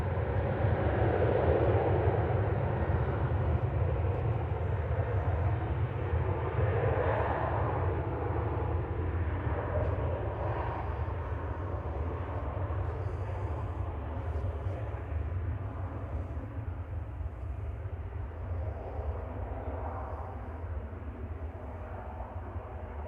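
A TUI airliner bound for Dubrovnik at Manchester Airport, heard as a distant, continuous low jet rumble that fades gradually across the clip, fairly faint and with no talking.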